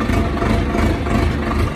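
A tractor engine idles steadily under a jamun tree, a continuous low rumble that holds close and even throughout, with no talk over it.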